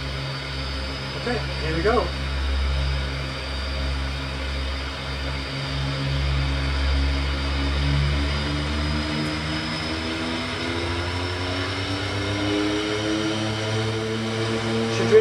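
A simulated de Havilland Twin Otter turboprop spooling up for takeoff, with a steady droning engine tone that rises and builds continuously; someone speaks briefly near the start.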